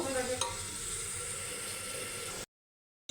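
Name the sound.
beef pieces and ginger-garlic paste frying in pressure cooker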